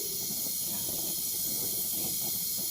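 An oxy-acetylene welding torch burning a neutral flame gives a steady, moderate hiss, continuous and unbroken, with no talking over it.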